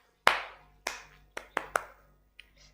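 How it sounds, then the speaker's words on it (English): Five sharp hand claps ring out close and alone, the first loudest, spaced unevenly with a short quick pair near the end, followed by a faint tap. "A big hand of applause for myself."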